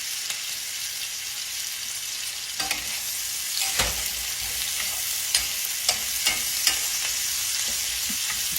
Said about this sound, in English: You don't want to fry them too hard, but you do want to get them kind of sort of brown.